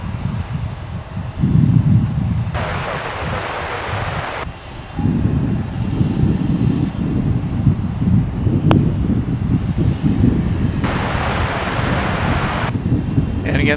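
A Boeing 737-800 airliner approaching DFW International Airport, its engine roar loud and sustained under wind noise on the microphone, with intermittent bursts of broadband hiss.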